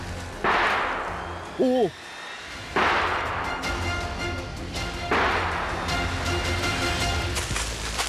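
During a hunt in Japan, three loud booming gunshots ring out several seconds apart. Each one is followed by a long echoing decay over steady outdoor background noise, and a person gives a short exclamation between the first and second shots.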